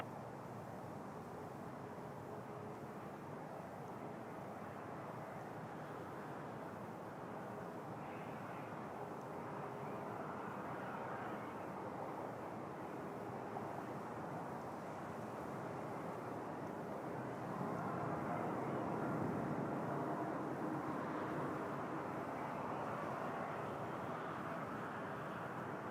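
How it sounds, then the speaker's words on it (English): A big airliner at Toronto Pearson gives a steady, distant jet roar that holds for the whole stretch and swells slightly louder late on, with no voices over it. "big plane"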